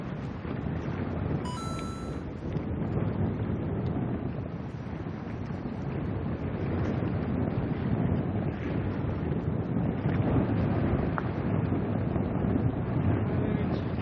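Strong wind buffets the microphone at a seaside fishing spot where anglers go after opaleye, a constant rough roar with surf-like rushing underneath that lasts the whole stretch.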